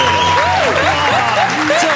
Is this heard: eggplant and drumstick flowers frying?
no